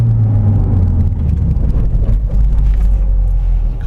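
A modified Mazdaspeed3 front-wheel-drive car turning around, its engine giving a steady low rumble close by with some wind noise over the microphone and no talk.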